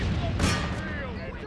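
A musket volley from a colonial line infantry in Empire: Total War cracks out as a short, loud burst with a quick second report, under a commander's shouted voice.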